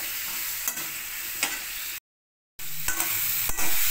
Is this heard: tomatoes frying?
yes